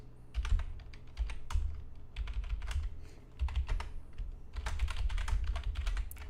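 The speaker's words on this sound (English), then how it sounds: "Sorry if you hear me typing, I'm just sending the alert to our members in our Discord community." Rapid typing on a computer keyboard, close and clear, with uneven bursts of key clicks and short pauses, over a low steady background hum.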